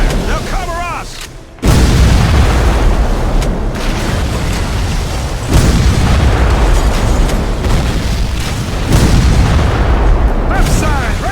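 Cannon fire from ships in a Civil War naval battle game, heavy booming blasts rolling one after another with dense rumbling explosions and a brief lull near the start.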